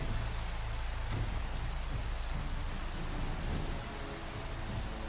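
Steady rainfall in Minecraft running with shaders, a constant hissing downpour at an even level throughout, with a faint low rumble underneath and no talking.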